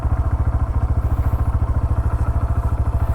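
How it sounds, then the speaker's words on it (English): A Honda CB 125 Hornet motorcycle idles close up, its exhaust note a steady, even low thumping pulse throughout. "let's also hear out the exhaust note from Honda CB 125"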